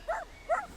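A little dog at a country house lets out two short, high yips about half a second apart, fairly faint against a quiet background.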